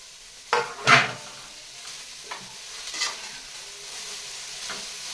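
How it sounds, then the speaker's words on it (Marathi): Long-cut cabbage sautéed in a pan for chapati cheese noodles: two sharp stirring scrapes up front, then lighter spoon strokes over a low, steady sizzle, no voices. "आता हा कोबी थोडा परतून घेऊ"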